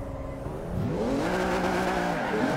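AI race cars in Forza Horizon 2 roar past close by, engines rising in pitch as they accelerate, a dense overlapping motor drone with no talking.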